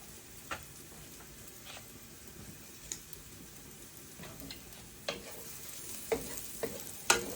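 Mushrooms browning in a pan give a faint, steady sizzle, with occasional sharp stirring clicks and scrapes scattered through it and a louder knock near the end.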